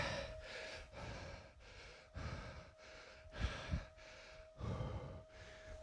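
Heavy, rhythmic panting after a 30-second HIIT sprint on a bike, a steady series of deep breaths close to the microphone, with a faint steady hum beneath and no talking.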